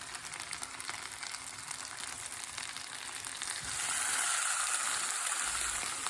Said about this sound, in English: All I'm doing is giving these a nice sear.